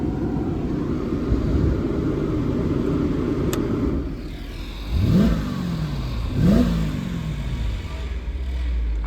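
The V8 of a 2007 Mercedes CLK 550 convertible idles with a low rumble, then revs up twice in short, rising bursts a second or so apart before settling back to a steady idle. The engine sounds close and loud, with no talking.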